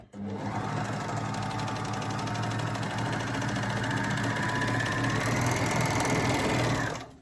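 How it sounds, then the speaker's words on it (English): An overlocker runs steadily for about seven seconds, sewing a short seam on a fabric gift bag, with a continuous close whirring hum of motor and stitching that starts and stops cleanly. "I'm just going to sew along this short seam"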